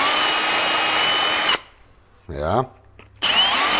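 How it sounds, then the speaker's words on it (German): A power drill with a larger bit runs in reverse against wood at a woodworking bench, whirring loudly, stopping, then starting again after a brief spoken word. "Jetzt habe ich mir einen größeren Bohrer geholt."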